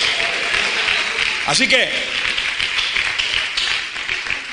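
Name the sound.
church congregation applauding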